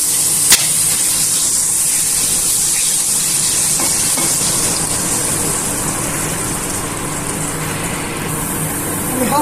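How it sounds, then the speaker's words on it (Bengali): Water splashed into hot spices frying in a pan for a tangra fish tel jhal hisses into a loud, steady sizzle that fills the whole stretch, with a brief sharp crackle near the start. "অল্প একটু জল দিয়ে দিচ্ছি"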